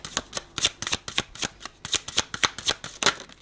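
Tarot cards are shuffled in a fast run of crisp riffling snaps, roughly a dozen sharp bursts in an uneven rhythm, close and clear with no voice over them.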